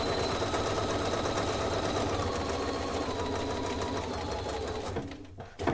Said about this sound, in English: So let me stitch down there.